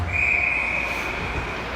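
A referee's whistle sounds during a youth ice hockey game as one sustained, shrill, steady blast over the hum of a rink crowd.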